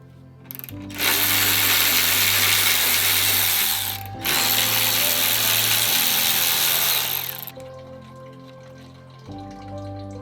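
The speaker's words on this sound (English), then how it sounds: "you can take off the upper radiator brackets and the overflow hose to the overflow container" A ratchet works loose the upper radiator brackets on a Mitsubishi Evo, a rapid, loud clicking in two long bursts separated by a brief pause, heard up close over a low background hum.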